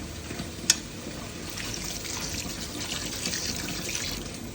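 A glass of water is poured into frying masala for goat head curry, a steady splashing gush over a faint sizzle, close and moderately loud.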